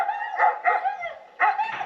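Sled dogs of a dog team bark and yip in quick clustered bursts, close and fairly loud, with brief gaps between the volleys.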